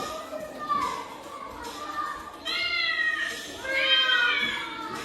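Several meows sound one after another, with higher, drawn-out cries toward the end and faint chatter in the background.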